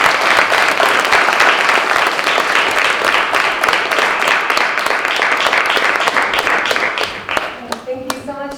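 A large audience applauds steadily to welcome an activist onto the stage at a talk on ending marijuana prohibition, loud, dense clapping that thins out in the final second as she starts to speak.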